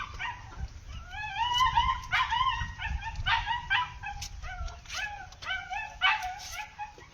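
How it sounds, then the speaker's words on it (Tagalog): A dog on a farm whimpers and yips in a series of high, wavering cries, close by and fairly loud, with short pauses between the whines. "Umiiyak yung aso."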